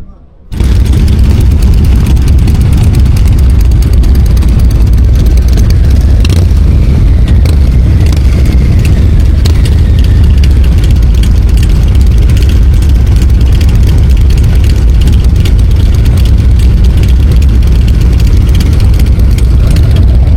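Harley-Davidson motorcycle engines running in a group ride, a loud, continuous low rumble from several bikes close by with occasional revving, sustained for about twenty seconds after a brief quiet start.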